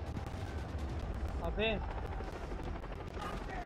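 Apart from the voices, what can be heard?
gunfire from a helicopter in the video game Far Cry 3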